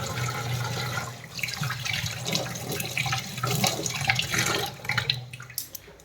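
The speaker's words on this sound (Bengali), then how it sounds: "একটু হাতটা ধুয়ে নিই।" Hands are washed with soap under a running kitchen tap, with a steady splash of water and some rubbing and clatter close by, no talk.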